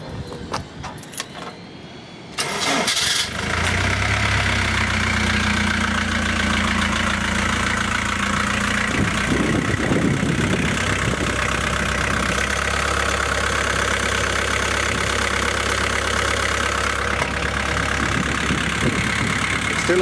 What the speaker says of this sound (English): this is going to be the last time you hear this engine running